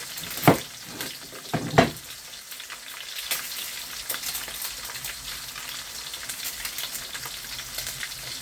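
Pork for bistek sizzles and crackles steadily as it fries in a hot pan, with a couple of louder clatters of stirring near the start and no talking.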